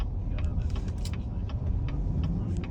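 Light evening rush-hour road traffic, a few cars passing steadily with a continuous low tire-and-engine rumble and faint intermittent rattles, no voices.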